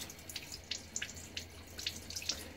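Water tap running in a sink while fingers are rinsed under it, a close, uneven splashing and trickling with bright little spatters.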